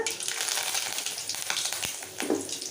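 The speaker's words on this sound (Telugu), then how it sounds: "ఆవాలు కొంచెం ఫ్రై అయిపోయిన తర్వాత ఎనిమిచ్చి కరివేపాకు అయితే వేసుకుంటున్నాను" Curry leaves and mustard seeds sizzling and frying in hot oil, a steady close crackle with sharp pops throughout.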